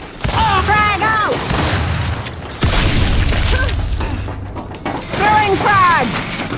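Frag grenade thrown and exploding in the Gears 5 video game, a sharp booming blast among clanking mechanical game effects, with shouted character voices before and after.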